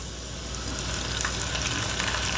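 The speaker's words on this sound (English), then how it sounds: "So anything that has moisture will cause the oil to bubble really strong." Green onions and basil sizzling and bubbling vigorously in hot oil while making homemade chili oil, a steady loud frying hiss with no talking.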